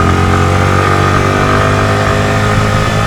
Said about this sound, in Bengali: সেকেন্ড গিয়ারে উঠতে পারছে না, ফার্স্ট গিয়ার করতে হবে।